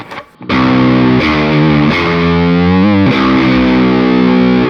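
Loud Telecaster electric guitar chords strummed with parallel distortion, blending clean twang and buzzing distortion, each chord ringing out before the next, with a brief bend near the end.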